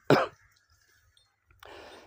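A man coughs once, sharp and close, followed by a brief raspy exhale or throat sound after a short pause, heard alone against quiet.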